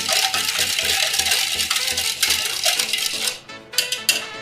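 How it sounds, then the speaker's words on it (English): Rapid metallic clinking and scraping of a whisk beating granulated sugar and butter in a bowl for an eggless chocolate cake, close and continuous, then a few slower taps at the end. "Now just whisk all this,"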